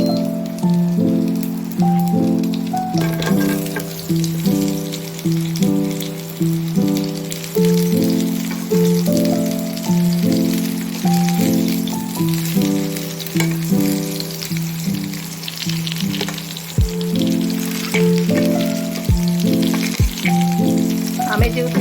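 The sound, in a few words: mango pieces frying in mustard oil in a wok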